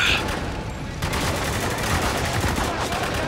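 Sustained rapid gunfire from the video game Spec Ops: The Line, a relentless barrage of automatic shots and bursts filling the whole moment at close range, with no pauses.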